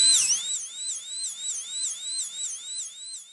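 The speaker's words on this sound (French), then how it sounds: "Mon coup de sifflet magique." A magic whistle blown in a long, high, warbling tone that wavers up and down in regular cycles, about six sweeps in a few seconds, clear and alone.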